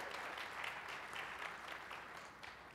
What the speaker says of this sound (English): let's give all the regional conferences a round of applause